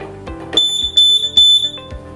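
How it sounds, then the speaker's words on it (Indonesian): Three short, sharp electronic beeps from a microcontroller at startup sound in quick succession, loud and close, each a high piercing tone with a brief gap between. "bunyi beep 3 kali ini tuh menandakan microcontroller ini tuh sudah aktif"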